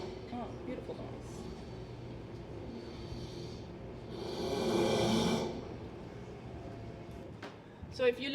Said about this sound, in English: So if you look at this horse breathing,